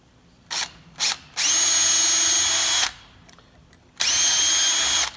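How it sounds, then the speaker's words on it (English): Power drill boring a hole through a wooden apron or stretcher for joinery, with two short trigger bursts followed by two sustained whining runs separated by a pause, loud and close. "I'm going to drill the hole this way through,"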